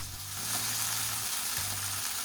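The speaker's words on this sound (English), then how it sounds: "gently fry the paneer on a low to medium heat" Paneer sizzles and spits in a frying pan over low to medium heat, a steady bright crackle with a low hum underneath, close and continuous.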